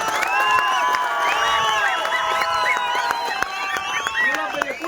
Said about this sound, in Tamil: அதுக்காக நான் பெரிய கைத்தட்டல் கொடுக்கணும்னு ஆசைப்படுறோம் தோழர்